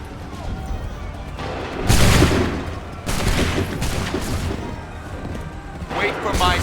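Musket volley in the Assassin's Creed 3 video game, loud rolling bursts of massed gunfire repeating at intervals, with shouted commands and voices among the shots.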